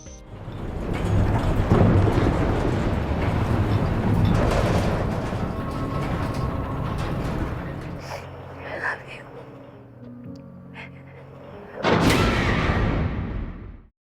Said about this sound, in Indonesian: badai menerjang hebat malam itu